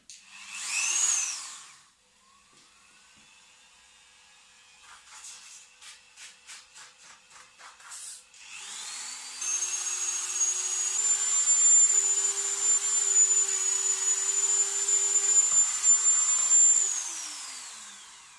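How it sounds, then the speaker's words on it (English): A high-pitched rotary tool with a sanding bit whines up and grinds against a surface in short bursts, then runs steadily for several seconds before winding down. "So all I did there was run a sanding bit over the bottom here"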